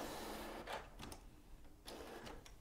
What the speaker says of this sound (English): meanwhile the printer has been chugging away here, and it's not quite done yet